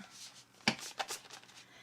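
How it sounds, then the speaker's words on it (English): A large tarot deck is riffled and shuffled, giving soft, brief papery flutters and a couple of sharper card snaps, quiet and close in a calm room. "Oh yeah, that shuffle ASMR."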